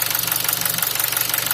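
A Nissan QG18DE car engine idles with an engine knock, a steady rapid rhythmic ticking over a constant low hum, close and loud, with no talking.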